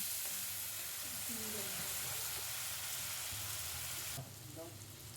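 Whole cumin, spices and tomato puree sauté in hot oil for a potato and green jackfruit dalna, a dense continuous sizzle with occasional soft stirring scrapes, close and steady, easing slightly near the end.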